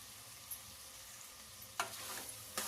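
Tomato cooking with ground masala being stirred in a pan, giving a soft, steady frying hiss with a few brief scraping stirs near the end.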